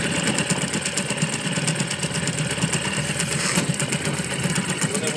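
A small boat engine runs steadily just after starting, a close, loud, even mechanical drone with a fast puttering rhythm and no pauses.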